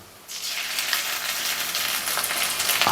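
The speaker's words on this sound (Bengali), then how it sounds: "পেঁয়াজ ভালো করে ভেজে নিলাম এবার এতে রসুন দিয়ে দেবো" Chopped onions fry hard in a pan with garlic added, producing a loud, steady, dense sizzle that starts abruptly and continues without talk.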